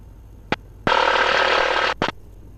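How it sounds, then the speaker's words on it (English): An aircraft cockpit warning beep sounds for minimum takeoff speed: a short tone, then a sustained loud tone of about a second, followed by two quick tones, all clear over faint background noise. "That little beep there lets us know we're at our minimum takeoff speed."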